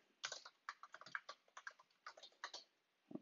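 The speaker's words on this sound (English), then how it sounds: "let's just type in something here" Rapid, uneven bursts of keystrokes on a computer keyboard, close and fairly quiet, with short pauses between groups and a final pair of taps after a gap.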